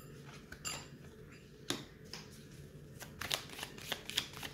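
Tarot cards are shuffled and drawn close by, soft papery riffles and flicks coming in short irregular bursts with quiet pauses between them and no talking.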